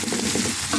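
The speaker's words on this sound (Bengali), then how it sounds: "আমার পেঁয়াজ রসুনটা ভাজা হয়ে আসছে।" Onion and garlic frying in a pan for liver bhuna, a dense continuous sizzle with soft stirring textures over a brief moment.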